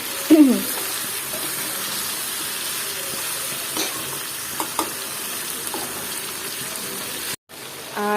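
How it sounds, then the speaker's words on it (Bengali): Mixed vegetables with pointed gourd frying in a pan give off a steady close sizzle, broken by a few stirring scrapes and a brief dropout near the end, with no talking. "আর এখন দিয়ে দেবো হচ্ছে পটল আর পটলটা দিয়ে আমি আবারও নেড়ে চেড়ে দিলাম"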